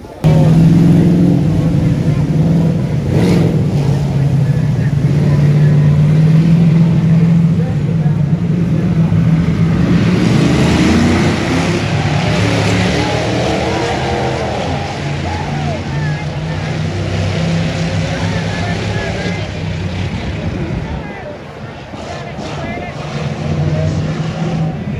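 A race car drones through the field in an endurance race at Le Mullets, its engine loud and steady with shifting pitch throughout, while a voice talks over it.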